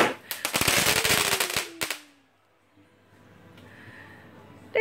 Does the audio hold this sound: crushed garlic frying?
no